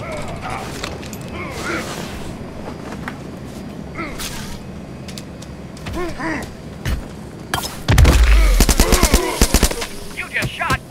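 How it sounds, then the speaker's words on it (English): Gunfire in The Culling, a German-played survival arena game: scattered shots and ambient game noise early, then a loud rapid burst of shots with heavy low thumps near the end, under some talk. "You just shot another contestant with a gun."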